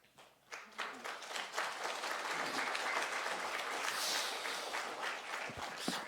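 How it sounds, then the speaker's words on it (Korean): Congregation applause in a church welcoming a guest pastor, starting with a few claps and swelling into full, steady clapping that holds for several seconds before tapering slightly. "이제 우리 강사 목사님 나오실 적에 한 박수로 한번 환영하겠습니다."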